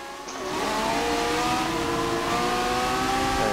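An open-wheel race car in Forza Motorsport 7 at Autodromo Nazionale Monza accelerates, its engine note climbing steadily through the gears, a loud continuous rising whine with no talk.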